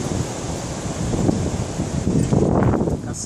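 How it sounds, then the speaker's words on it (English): Strong, cold wind blows steadily ahead of an approaching storm, a broad rushing roar with rising gusts toward the end, loud and close on the microphone. "You can hear how strong the wind is blowing."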